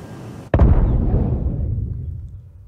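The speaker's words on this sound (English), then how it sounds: "Self-destruct. Right. Activated. Run away." A ship self-destructs in the Star Citizen game with one sharp, loud explosion. A deep rumbling roar follows and slowly fades over a couple of seconds.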